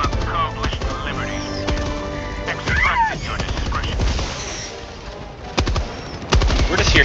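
Dense, rapid gunfire from several weapons shooting bugs in Helldivers 2, with bursts and heavier blasts near the end, mixed with game effects while a voice talks intermittently.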